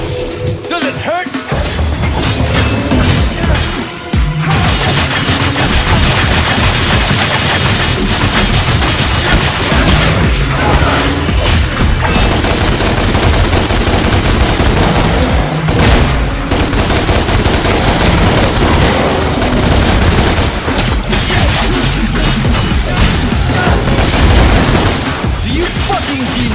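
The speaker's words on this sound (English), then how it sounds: "Now use your gun! Shoot him down!" Gunfire from the video game Devil May Cry, loud rapid shots and blasts packed densely over busy music and game effects, with voices talking at points.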